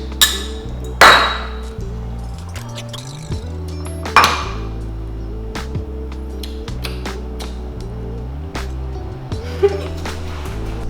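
Cocktail glasses clink together in a cheers toast over strawberry puree drinks, two bright ringing clinks a few seconds apart plus a smaller tap later, set against a background of steady music.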